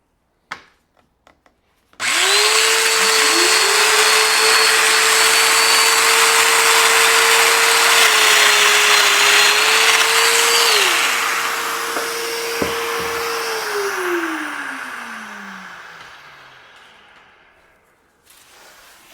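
A Festool Domino 500 joiner cuts a mortise into wood, its motor whining up abruptly and holding a steady, loud drone for roughly ten seconds with slight pitch shifts as it plunges, then winding down slowly to silence.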